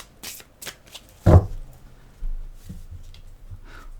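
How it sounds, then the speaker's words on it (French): A deck of mirror oracle cards is shuffled and cut by hand in a few quick riffling bursts, then a sharp slap of the cards and softer handling, close and fairly quiet with no talk. "Je vais faire une petite coupe avec l'oracle"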